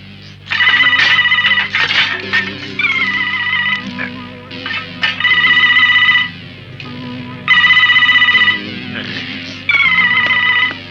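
An electronic telephone ringtone plays loudly in repeated bursts with short pauses between them, with no one speaking.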